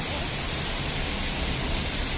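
Heavy rain falling in Al Ain, a dense, steady broadband rush that stays even and fairly loud throughout, with no voices.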